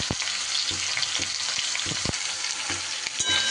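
Spiced mixture of chilli powder, turmeric and salt frying in a pan for an orange-based dish, steady close sizzling with repeated scraping strokes of a spoon stirring through it.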